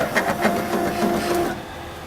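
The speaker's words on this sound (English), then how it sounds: "Move your needle to number 15 to access the bearings on the right-hand side." A Ricoma MT-1502 commercial embroidery machine steps its needle case over to needle 15, giving a steady mechanical whirring with a few rhythmic clicks for about a second and a half. It then settles into a quieter hum.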